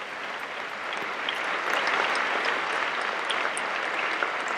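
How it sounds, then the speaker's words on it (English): An audience at a high school veterans ceremony claps for teachers, a dense steady wash of applause that swells a little after the first second and holds strong to the end. "Let's give them a round of applause because they definitely deserve it."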